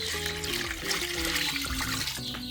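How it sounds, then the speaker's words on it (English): Water pours and trickles into a pot holding leftover chicken bones, a short, quiet continuous splashing stream with no talk over it. "what I'm going to do now is add some water"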